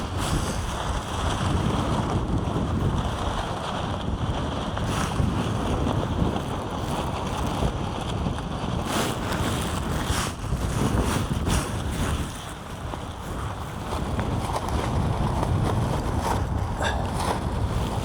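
Strong gusty wind roars steadily across a wild camp during Storm Amy while a tent is pitched, a loud continuous rush with buffeting gusts throughout and no voices.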